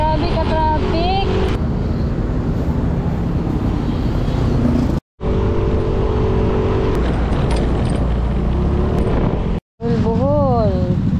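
Heavy road traffic near a convention center in Bohol, engines rumbling and cars passing close by with wind buffeting the microphone; a voice talks over it, and the sound cuts out briefly twice.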